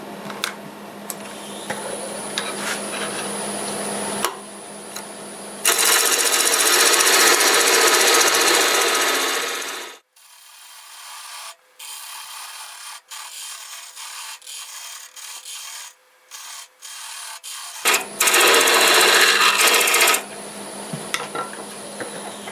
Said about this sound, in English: Cut down there to make a tenon.